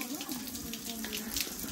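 Water runs steadily from a tap at a hand-washing basin at Miyajidake Shrine in Japan, a close, continuous splashing flow with voices talking faintly over it.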